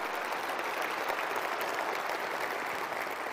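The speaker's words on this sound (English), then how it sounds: "I think that's worth a round of applause." Audience applause at Sony's E3 2005 press conference, a dense, steady clapping from a large crowd filling the hall for a few seconds without letup.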